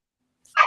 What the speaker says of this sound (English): Oh, sorry about the dog.